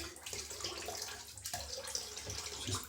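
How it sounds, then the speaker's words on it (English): A few drops of water trickle onto a cake of shaving soap, a soft, steady splashing and running-water wash lasting a few seconds, fairly faint and with no voices. "Just put a few drops of water on it."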